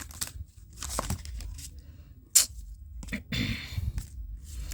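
Slippery tarot cards are shuffled by hand in short, crisp bursts of riffling and slapping, close up, with brief pauses between the handfuls and one sharp snap midway.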